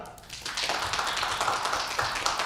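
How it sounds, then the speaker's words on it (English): Applause from a live audience welcoming a startup founder to pitch, a steady wash of claps spread through the room, fairly loud and continuous with no talking over it. "So round of applause."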